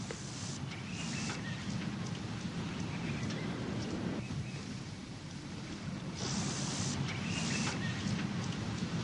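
Steady heavy rain pours down with low rumbling thunder rolling underneath, the downpour swelling louder in places.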